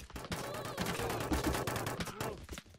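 Rapid, continuous minigun fire in Totally Accurate Battle Simulator, a dense roar of shots with whining mechanical tones, loud and close, game-like.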